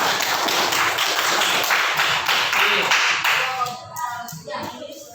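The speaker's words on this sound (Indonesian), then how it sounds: "Yang pertama, tepuk tangan." A class of students claps hands in a dense, lively burst for a few seconds, then the clapping thins out and voices follow.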